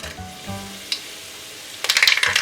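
Mustard seeds and curry leaves hit hot oil in a pan for lemon rice, giving a steady close sizzle with a few pops and a louder, crackling spatter near the end.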